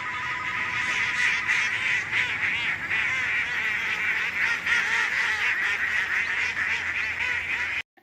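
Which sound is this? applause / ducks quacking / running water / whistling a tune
ducks quacking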